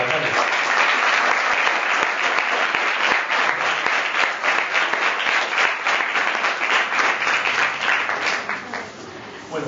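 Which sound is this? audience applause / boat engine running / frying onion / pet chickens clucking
audience applause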